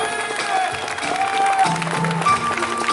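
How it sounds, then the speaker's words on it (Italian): Steady crowd clapping at an outdoor dance event in Piazza Le Monache, Ruvo di Puglia, sustained for a few seconds over background music. "Un applauso a Davide ed Emilia."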